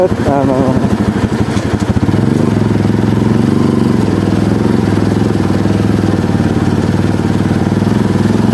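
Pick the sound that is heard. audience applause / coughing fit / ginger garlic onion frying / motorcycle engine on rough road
motorcycle engine on rough road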